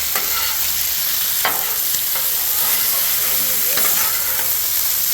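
Fried rice and chicken stir fry sizzling on a 36-inch Blackstone outdoor griddle. A loud, continuous, hissing sizzle fills the whole stretch, with scraping and flipping clatters from a spatula cutting through it. No one speaks.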